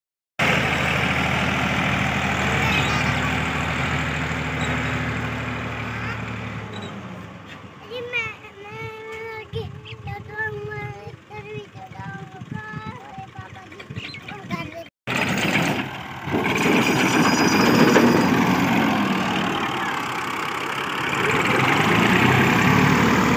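A vehicle engine idles and runs with a steady rumble through most of the stretch, broken by a brief cutoff, while children's voices and chatter come and go over it.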